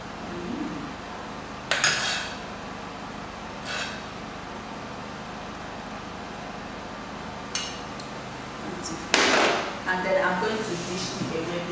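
Gbegiri soup being dished into a bowl, heard as occasional clinks and scrapes of a ladle or spoon against pots and dishes, standing out over a steady background hum with a person talking throughout.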